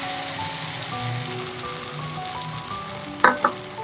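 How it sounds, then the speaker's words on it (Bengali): A jaggery mixture goes into a simmering jujube (kul) chutney, giving a steady, close frying sizzle with a few sharp clinks near the end. Nobody talks. "এবার আমি এই গুড়ের মিশ্রণটা দিয়ে দেবো।"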